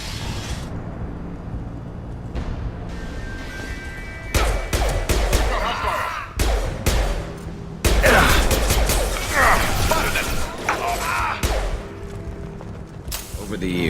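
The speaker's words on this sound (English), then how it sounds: "The Blue Suns and Vorcha shooting anything that moves." Bursts of gunfire from Blue Suns and Vorcha fighters in the video game Mass Effect crack in loud clustered volleys, with quieter stretches between them and faint mechanical clatter underneath.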